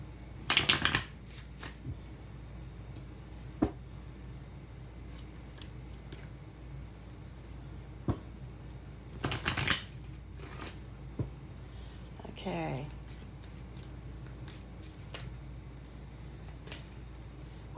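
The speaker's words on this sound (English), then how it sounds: "Every so often, I've got to do a couple ruffle shuffles here." Tarot cards get riffle shuffled in a few short, crisp bursts of fluttering card noise spread out over quiet room tone, with small taps and handling sounds between them.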